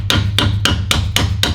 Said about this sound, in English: you might have to tap it with a hammer or something.